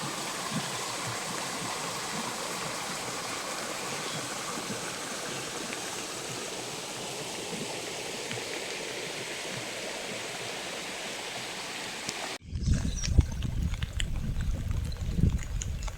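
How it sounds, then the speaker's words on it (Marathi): Swollen streams and roadside channels rush with rainwater after unseasonal pre-monsoon rain, a steady broadband roar that turns into a heavier, closer churning surge for the last few seconds. "हे बघा इकडून माळानं सगळं पाणी येतंय"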